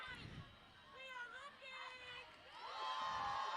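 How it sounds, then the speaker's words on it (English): A crowd cheers and shouts at a Premier Ultimate League women's ultimate frisbee game between Portland Rising and Austin Torch, rising to louder whoops toward the end. "Lily White hyping up the crowd."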